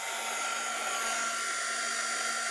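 Steady, continuous whirring hiss of a heat tool blowing on stain applied to a craft piece, close and even throughout with no talking.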